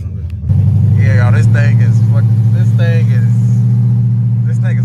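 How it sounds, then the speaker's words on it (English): A Chrysler 300C fitted with long tube headers idles with a loud, deep, throbbing exhaust rumble right up close, while someone talks over it throughout. "This thing sound like a race car because it's like right up under me and stuff"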